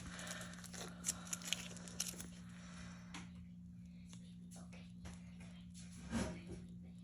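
Scissors trim closely around a sugar ornament, making a few quick snips near the start over a low steady hum, then soft faint handling sounds.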